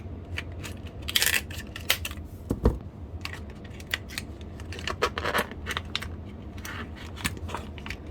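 Sharp metallic scissor snips and clicks on packaging, irregular and close, with a few louder cuts standing out among handling noises.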